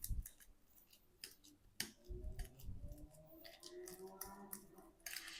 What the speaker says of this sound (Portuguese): Vamos amassar bem aqui a banana também.